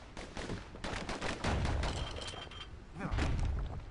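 Dual slinger pistols fire in rapid bursts in the video game Bastion, a string of punchy, percussive shots with heavy low thumps, loud and close over a steady game soundtrack.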